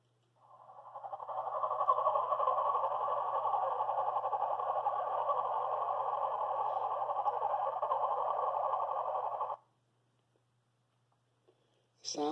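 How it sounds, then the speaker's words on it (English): American black bear cubs nursing, giving a steady, loud, buzzing hum that runs without a break for about nine seconds and then stops abruptly into near silence. "Here's the sound of some cubs nursing."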